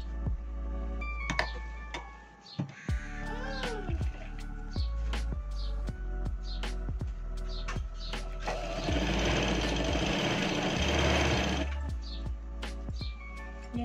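A sewing machine stitches a coat collar in quick rattling bursts broken by short pauses, with light ticks and clicks of the fabric being positioned between runs.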